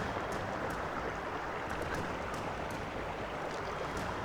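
Water pours and trickles steadily into a camping water filter outdoors, a constant soft rushing with no talk over it.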